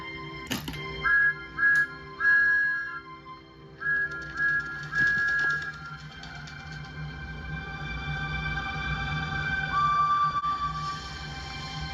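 A steam locomotive whistle sounds in several short, high blasts, followed later by a longer tone, over a low rumbling background.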